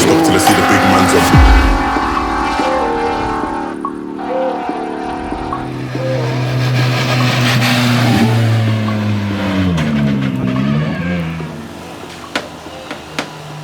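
A rally car with a small-capacity turbocharged engine revs hard and loud, its pitch rising and falling through repeated throttle blips, with music playing underneath and no talking.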